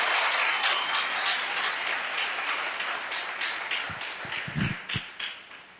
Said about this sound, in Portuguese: dê a melhor salva de palmas à palavra de Deus